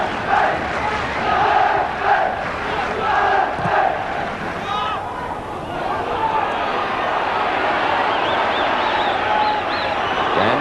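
Football crowd at Windsor Park during the 1985 European Cup tie between Linfield and Servette, a large stadium mass of roaring, chanting supporters that surges and swells steadily, with a commentator's voice faintly over the noise.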